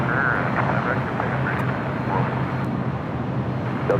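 An airliner taking off at LAX airport: a steady, broad jet roar fills the whole stretch at an even level, loud and continuous, with no clear talk over it.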